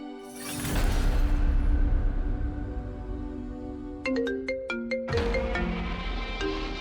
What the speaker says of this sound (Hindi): ये हरीश ने तो फोन उठाना ही बंद कर दिया है।